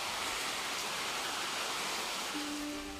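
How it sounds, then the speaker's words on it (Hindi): Heavy rain pours down steadily during an evening downpour, a dense continuous hiss filling the scene from start to finish with no voices. "बारिश होने लग गई है जोरों की।"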